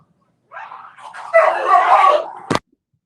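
A dog barks and whimpers in a short burst of yips and whines, close and fairly loud, ending in one sharp sound.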